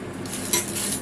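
A spoon clinks and scrapes in a pan as chocolate is stirred into just-boiled hot cream, one brief close burst of metallic stirring noise over a constant background hiss.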